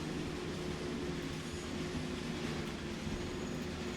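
A short, heavy train hauled by a BR 182 electric locomotive runs in Train Sim World on the Main-Spessart line, giving a steady low rumble and droning hum of wheels on rails.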